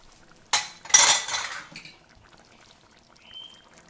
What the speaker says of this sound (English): So in the prawns go with a little bit of the fluid left.